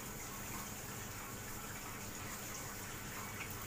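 A dishwasher fills with water in a home kitchen, making a steady, unbroken rushing hiss throughout, fairly faint, with no talking.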